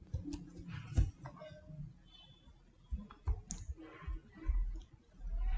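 A computer mouse clicks while an online GST registration form for a private limited company is filled in: a few soft, sparse clicks over a low room hum.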